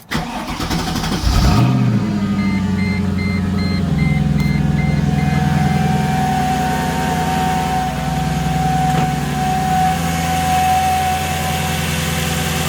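Mercedes C55 AMG V8 cranking over briefly, then catching and flaring into a loud rev before settling into a steady, close idle that runs on.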